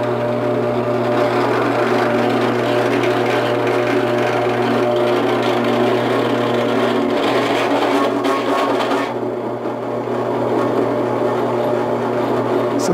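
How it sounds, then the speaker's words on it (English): A steady, loud machine drone with a grinding whine runs throughout as a drill press cuts into a steel bar for a custom KLR650 rear rack, with no talking. "let's go ahead and drill this and let you see what that looks like"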